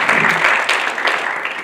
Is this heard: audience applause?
yes